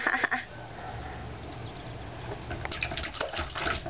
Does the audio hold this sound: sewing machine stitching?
no